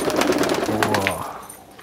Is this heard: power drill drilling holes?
no